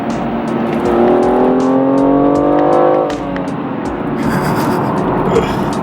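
A BMW M235i engine with an M Performance exhaust revs hard toward 7,000 rpm, climbing steadily in pitch, droning loudly and close, then drops off abruptly before idling on.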